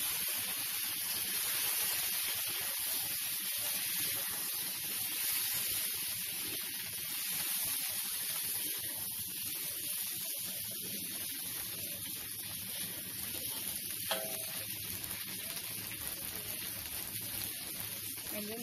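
Chicken frying in a pan, a steady close hiss and sizzle with faint crackles that holds evenly throughout, with no clear voices over it.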